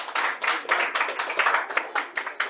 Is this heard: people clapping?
yes